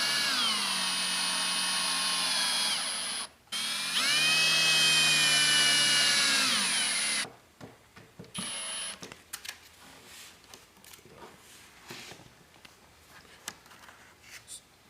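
Small screws are driven into a desk control mount on a height-adjustable desk. A steady, close motor whine rises and falls in pitch for about seven seconds, then gives way to light, scattered clicks.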